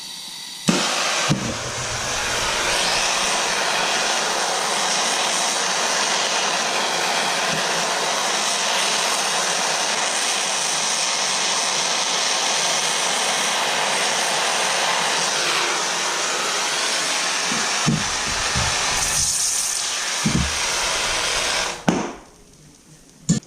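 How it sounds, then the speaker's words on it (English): A torch heats a peg and sterling silver belt buckle for soldering, giving a steady, close roaring hiss that runs unbroken for about twenty seconds before cutting off with a few clinks. "we're going to solder the peg on the buckle"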